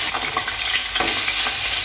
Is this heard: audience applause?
no